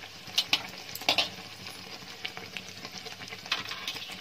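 Puri deep-frying in hot oil for a fast, navratri-style vrat meal, a soft continuous sizzle with scattered bubbling pops and a few sharper crackles, fairly close and quiet, with no voices.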